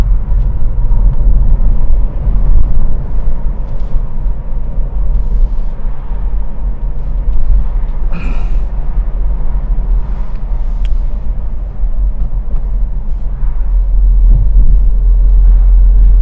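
Steady low rumble from inside a car climbing hills under clutch control, a constant muffled engine and road drone with a faint thump now and then.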